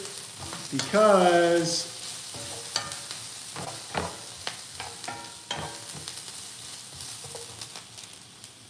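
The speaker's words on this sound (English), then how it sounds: "we're also going to keep stirring the onions, make sure that they don't get burned" Onions frying in a pan while being stirred, a steady crackling sizzle with scraping strokes, briefly masked near the start by a loud tonal burst, then continuing under a faint spoken word.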